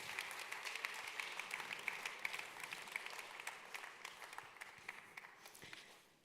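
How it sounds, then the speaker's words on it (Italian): Steady, dense applause from an audience at the 40th Giuseppe Dessì Literary Prize ceremony, sustained throughout and slowly fading toward the end. "Continuiamo l'applauso."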